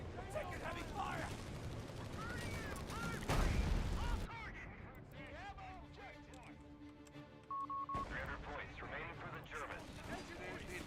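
Video game battle with heavy gunfire: bursts of rapid shots and booming blasts crackle beneath shouted voices and radio chatter, with a short electronic tone partway through.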